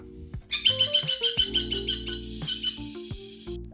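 Pet bird chirping indoors during a painting session, a fast series of sharp, high tweets in a steady rhythm, loud and close, with a brief squeak or two and no speech.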